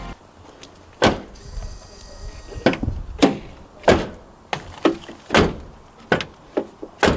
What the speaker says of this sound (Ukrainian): Ну давай порівняємо, як закривається тепер ліва і права дверцята.